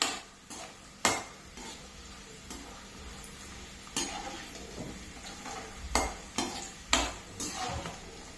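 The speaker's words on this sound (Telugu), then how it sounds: "పల్లీలు అయితే వేగిపోయాయి." Peanuts frying in a pan as a spoon stirs them, with sharp scraping clinks of the utensil against the metal at irregular intervals over a low steady sizzle, close and fairly quiet.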